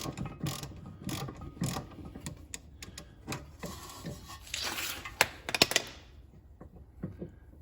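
Ratchet clicking in quick bursts while tightening brake caliper bracket bolts on a 1999 Acura CL 2.3 during a rear pad and rotor service, with close metallic clatter and rubbing between the pulls.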